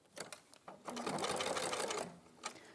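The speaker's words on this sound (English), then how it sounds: "where I've already sewn, I'm going to aim to sew in the same place again" A sewing machine stitches over an existing seam on a bag, a few short quiet bursts of needle clatter followed by a longer steady run, then one more brief burst, fairly faint and close.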